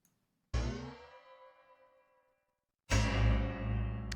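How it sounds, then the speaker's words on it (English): A metallic cymbal strike rings out with a long shimmering decay, then after a pause a second louder, wobbling metallic wash swells as the cymbal moves through water. "It's basically a cymbal dipped in water that I hit and kind of moved around in the water"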